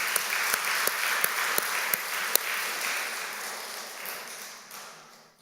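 A church congregation at a revival service bursts into a broad wash of applause, a few sharper claps standing out early, the sound holding steady and then gradually thinning and fading toward the end.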